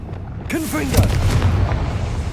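A single Confringo blast spell explosion in Hogwarts Legacy: a heavy booming burst that strikes about half a second in and rumbles out over the next second and more, loud and close.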